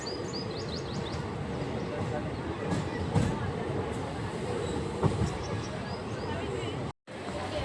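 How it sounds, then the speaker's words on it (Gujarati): Bhavnagar–Porbandar passenger train rolling into Tithal station, a constant rumbling rail roar with occasional clanks and knocks, birds chirping faintly above, and a brief dropout near the end. "તો ટ્રેન તિથલમાં એન્ટર થઈ ગઈ છે"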